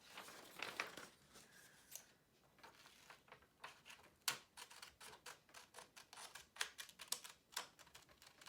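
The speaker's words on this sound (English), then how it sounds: "grab your template and cut out the circle" Scissors snip a circle out of thin pop-can aluminum in quick, irregular clicks and crisp metallic cuts, close and fairly quiet, quickening into a steady run of snips toward the end.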